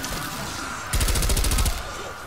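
Rapid burst of automatic gunfire, about a dozen evenly spaced shots over under a second, fired at zombies in a video game, standing out over a steady background rumble.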